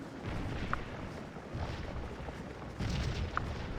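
Cannon artillery fires in a corps-versus-corps PvE battle game, with dull booms rolling continuously, two sharper reports standing out, and a dense, muffled roar of distant combat underneath.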